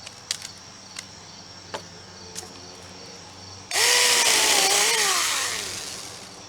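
A small pruning chainsaw cuts into a downed tree for firewood at a camp, starting abruptly after a few faint knocks and running as a loud, close, buzzing whine that rises and falls in pitch as the chain bites, then eases off.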